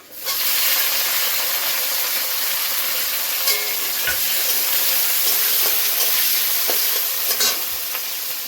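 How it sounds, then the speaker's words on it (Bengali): Onions and green chillies fry in hot oil, producing a loud, steady, close sizzle with scattered stirring scrapes and a few sharper clicks, no talking. "পেঁয়াজ আর কাঁচা লঙ্কা দিয়ে দেবো।"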